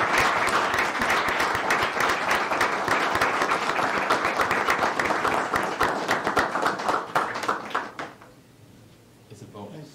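Sustained applause from a city council meeting audience, dense overlapping claps at steady volume for most of the stretch, then thinning to a few scattered claps and fading out near the end.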